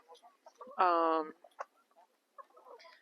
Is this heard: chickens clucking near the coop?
yes